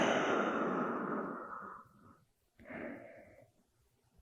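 Slow, gentle breathing during a soft yoga pose: one long audible exhale fading out, a short pause, then a second quieter breath, close and alone.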